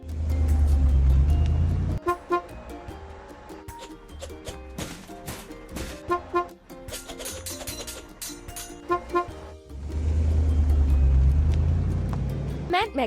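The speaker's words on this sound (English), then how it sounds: "Cement mixer." Cartoon cement mixer truck pouring concrete at a house construction site, a loud low engine rumble at the start and again near the end, with bursts of horn toots, clanks and playful sound effects in between.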